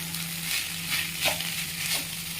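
Chowmein noodles stirred while frying in a pan, a continuous close sizzle with soft scraping strokes of the spatula and a low steady hum underneath; no talking.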